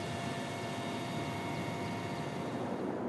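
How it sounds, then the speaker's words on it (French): A Russian Mi-26 heavy transport helicopter, the world's largest, used for relief flights after the October 2005 Kashmir earthquake, gives a steady, dense rotor and turbine roar that holds evenly throughout with no voices. "un Mi-26 russe qui peut transporter 15 tonnes de fret"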